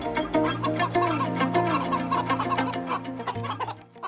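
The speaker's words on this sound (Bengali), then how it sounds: "আরে বাপুরে, এই মুরগিটা আবার কোথা তমাল থেকে আসলো?" A cartoon chicken clucks repeatedly in a lively, close, fairly soft run of bursts over a low steady hum, with no talking.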